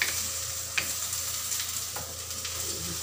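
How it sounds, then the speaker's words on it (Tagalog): Food bubbles in a pot at a steady boil, a constant close hiss and simmer with a few soft stirring knocks. "Kumukulo na siya."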